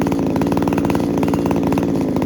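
Small engine, likely on a pickup, idles steadily with a fast, even chugging pulse and a light metallic ticking knock running through it, close and continuous with no talk.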